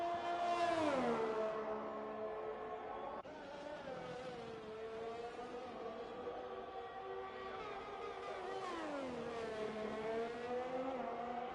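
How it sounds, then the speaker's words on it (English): An Alfa Romeo Formula 1 car engine in F1 2021 screams at high revs on a flying lap of the Russia circuit, steady and loud with pitch dips at gear shifts and braking before climbing again. "started a flying lap now in the Alfa Romeo"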